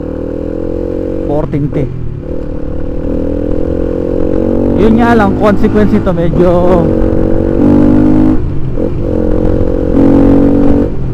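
Rusi Flame 150 motorcycle fitted with a stock 14T front sprocket, its engine revving hard in repeated rising bursts with gear changes along a long road stretch, loud and close under someone talking.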